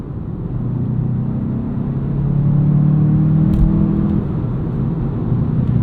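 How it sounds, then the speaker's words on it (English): A 2025 Volkswagen Jetta GLI with a manual transmission on a city drive. A loud, steady engine drone and cabin rumble rise briefly as the revs climb, then settle back to a level hum, with no talk. "if you want to have more engine noise, you can go into Sport, and that will project engine noise through the Beats audio system"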